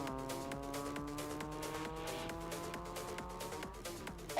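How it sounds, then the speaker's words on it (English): A Honda City rally car engine at the APRC Asia Rally Cup holds high revs with a buzzing, steady tone, bouncing against the rev limiter with rapid stuttering cuts and shifting pitch, loud and continuous without talk. "Listen to that sound of the engine."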